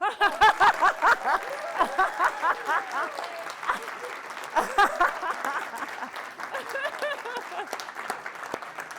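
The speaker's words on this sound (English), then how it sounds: "Can we give them a round of applause?" An audience at a University Innovation Fellows meetup in Silicon Valley breaks into a round of clapping, with whoops, cheers and laughter mixed in, loud at first and then settling into steadier, thinner applause.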